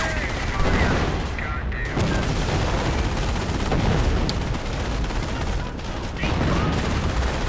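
Naval bombardment in Company of Heroes during the Normandy campaign assault on Cherbourg: dense, continuous barrage of heavy gunfire and booming impacts, loud and sustained with brief lulls, a voice talking over it.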